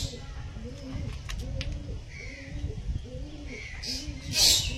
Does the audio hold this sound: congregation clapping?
no